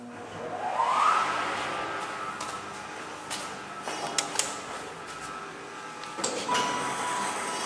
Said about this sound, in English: Let's listen to the motor start up on this thing.